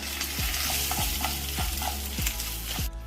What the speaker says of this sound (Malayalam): ഉഴുന്നൊന്ന് റോസ്റ്റായി വരാൻ തുടങ്ങി നമ്മൾ അതിലേക്ക് വറ്റൽ മുളക് ചേർത്ത് കൊടുക്കാം